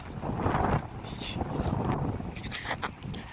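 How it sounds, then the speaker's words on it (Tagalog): Gusty wind buffets the microphone outdoors in snowy weather, with low rumbling roars that swell and ease, and faint sounds of movement near the end. "Sorry, medyo mahangin."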